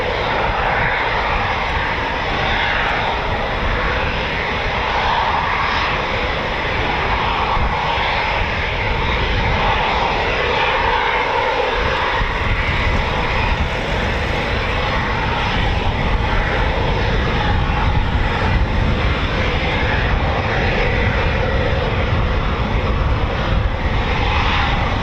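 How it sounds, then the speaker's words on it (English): Eurofighter Typhoon FGR4 fighter jets of 41 Squadron at RAF Coningsby spool up their Rolls-Royce EJ200 jet engines, a loud, steady, broadband roar that keeps going for the whole stretch with no talking. "Beautiful spooling Typhoon, those Rolls-Royce EJ200 engines."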